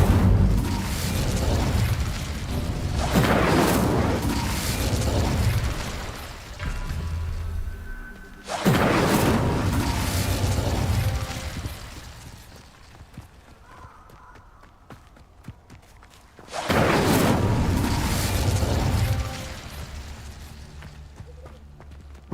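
Three loud fiery explosions from a fire spell in a video game burst out in turn, each a heavy roaring boom that swells and slowly dies away, with quieter stretches of rumble between them.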